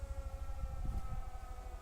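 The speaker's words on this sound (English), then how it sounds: "this siren wasn't going off before" A steady wailing siren sounds in the video game Everybody's Gone to the Rapture, a sustained tone held without a break over low ambient rumble, with no talking over it.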